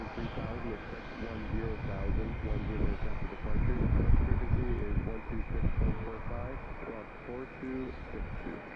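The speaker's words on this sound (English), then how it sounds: "Watch Allegiant taxi to the gate." An Allegiant airliner taxis toward an airport gate with a steady, muffled engine rumble and whine, while someone talks continuously over it.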